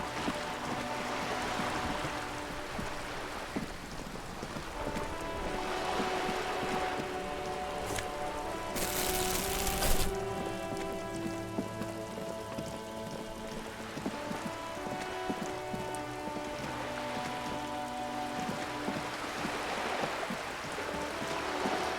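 Steady rain falling in the video game Disco Elysium, a continuous patter of drops on surfaces under layered ambient music, moderately loud and unbroken for over twenty seconds, with a brief bright hiss partway through.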